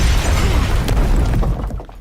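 A loud, dense animated explosion from a Batman cartoon rumbles and crackles with heavy low-end boom, then fades out toward the end, with no voices.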